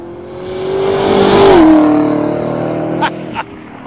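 A 2018 Chevrolet Camaro ZL1 V8 accelerating outdoors, a loud rising engine roar that swells and peaks, then shifts down in pitch as it passes and fades, followed by two sharp short bursts.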